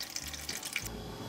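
Tap water runs steadily into a pot being filled with meat and parts for aspic, a short, fairly faint splashing stream with no talk.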